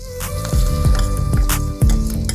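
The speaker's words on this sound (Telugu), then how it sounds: "తాలింపు తీసి పోసేద్దాం." Hot pulihora tempering with cashews, asafoetida and green chillies is poured over rice, setting off a loud sizzle and crackle with occasional clinks of a pan and spoon, close by and without talk.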